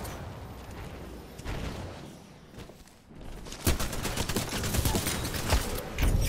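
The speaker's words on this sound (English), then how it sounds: "LMG hip fire for the win" Rapid bursts of LMG hip fire in Titanfall 2, dense crackling shots that fade briefly mid-way and then return louder and more continuous, with no talking.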